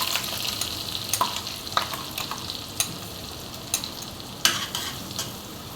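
Crushed green chili, curry leaves and cumin frying in a pan for sabudana khichdi: a continuous close sizzle broken by scattered sharp pops and spoon scrapes, with no talking.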